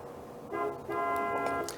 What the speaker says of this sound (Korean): 미리 속도 줄이면서 빵빵했습니다.